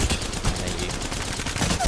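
Havoc rifle gunfire in the Apex Legends video game, a dense run of rapid shots firing steadily for about two seconds at close range, with no talking.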